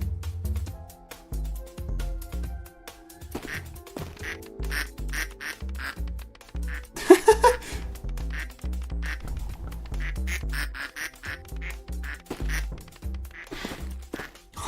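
Cartoonish duck quacks repeat in quick bursts throughout Duck Game, over busy clicking and thumping game effects, with a louder cluster of quacks near the middle.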